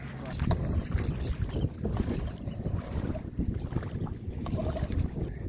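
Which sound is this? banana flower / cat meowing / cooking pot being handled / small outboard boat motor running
small outboard boat motor running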